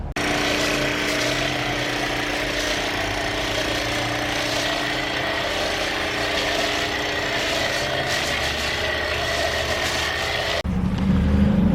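A dirty work truck being foamed and washed with cleaner, a steady loud spray and hiss under a constant running engine or pump drone, ending with a brief change in tone.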